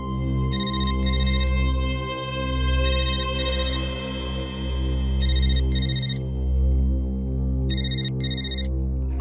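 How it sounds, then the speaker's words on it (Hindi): A mobile phone ringtone rings repeatedly in a crime drama scene, a bright electronic melody in regular bursts over a steady low background hum, with no talk during the ringing. "फोन बज रहा है तेरा।"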